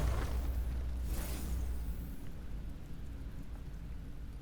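Acid storm rain falls in the video game Into the Breach: a soft thunder-like rumble and burst of hiss at the start, then a steady, quiet wash of rainfall with no talking.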